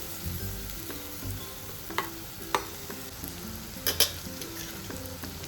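Onion and capsicum sizzle steadily in a hot pan, stirred with a utensil that clinks against the metal a few times, close and continuous with no talk.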